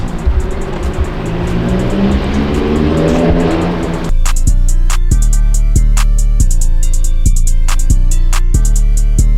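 A Jetta car returning from a test drive: a rising engine approach gives way to a loud, close, rhythmic revving with sharp repeated pulses, no talk.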